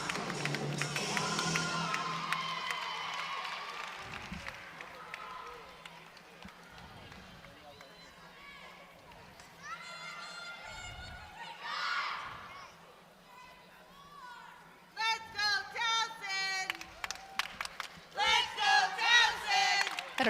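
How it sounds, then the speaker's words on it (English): Crowd at a Towson gymnastics meet against Temple and William & Mary breaks into a rhythmic Let's Go Towson chant, loud shouted bursts near the end over ongoing arena noise and some talk. "we have a Let's Go Towson cheer starting"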